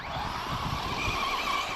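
A Kyosho nitro RC buggy tears across a parking area with its rear end sliding out, giving a continuous, close, rasping mix of engine whine and tire scrub.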